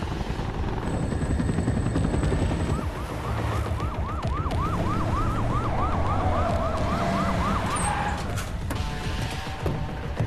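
An ambulance siren wails in a Telugu action movie scene, a loud, repeating rising-and-falling tone over rumbling engine and traffic noise, with a brief high tone early on.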